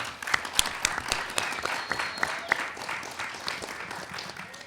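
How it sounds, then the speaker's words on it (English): An audience at a middle school quiz show claps steadily, a dense patter of applause from a crowd that holds at an even level throughout. "Let's give our teams again a big round of applause."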